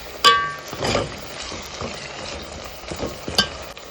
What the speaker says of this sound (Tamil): தக்காளி நல்லா வதங்கிடுச்சுங்க